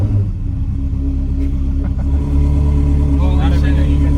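A Ferrari's engine fires up with the clutch in and settles into a deep, loud rumble that swells partway through. Voices talk over the engine.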